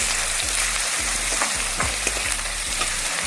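Chili powder and onion fry loudly in a pan for a traditional Maharashtrian hulpali dish, with a steady sizzle and regular scraping stir strokes close by. No voices are heard.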